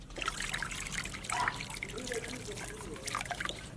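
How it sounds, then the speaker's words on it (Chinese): Boiling water trickles into a sauce of light and dark soy sauce, oyster sauce, sugar and salt for pork belly steamed with pickled cabbage, a soft, steady close pour with faint kitchen noise. "再加点开水"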